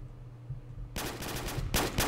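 Turrets in a Minecraft gun mod firing rapid automatic bursts, one sustained volley starting about a second in and another near the end, loud over a low game background.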